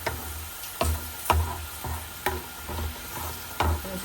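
Garlic frying in a pan, browning toward burnt, sizzles softly while a spoon stirs it in a run of sharp scraping strokes at an uneven rhythm, heard up close.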